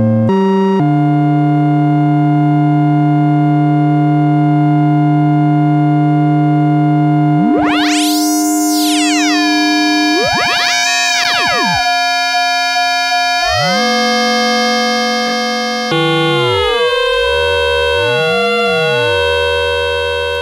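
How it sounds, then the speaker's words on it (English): A Micromac synthesizer oscillator sounding a loud, pure steady tone with harmonics, then sweeping upward in siren-like glides and shifting to new pitches, with wobbling warbles near the end. "Let's take the sine wave"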